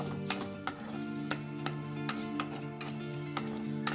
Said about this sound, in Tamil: தக்காளிய நல்லா சுருள வதங்கணும், மேஷ் ஆகணும் நல்லா.